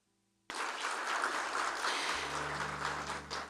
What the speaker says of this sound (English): a big round of applause for Mr. Mohan Raj Ojha.